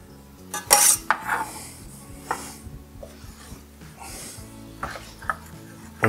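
Cheese is stirred in a pot for bacon mac and cheese: a spoon scrapes and clanks against the metal pot in an irregular rhythm, close and fairly loud, with no voices.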